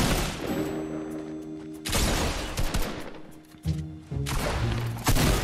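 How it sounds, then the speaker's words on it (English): Fortnite gunfire from a player hanging back to shoot, close bursts of rapid shots with sharp impacts and thuds, separated by brief quieter gaps. "I'm a stay back and shoot."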